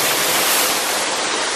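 A waterfall plunges into a deep pool of cold water, sending up a loud, steady broadband roar that fills the scene with no break and no voices.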